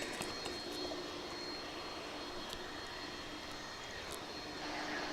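A McDonnell Douglas MD-11 jet at DFW International Airport gives a steady, moderately distant engine roar that holds evenly throughout, with no talk.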